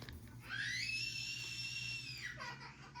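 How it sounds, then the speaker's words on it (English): Children screaming in a home in the background, a sustained high-pitched shriek held for about two seconds over steady low room hum, moderately loud but distant. "I do apologise if you can hear my kids screaming in the background."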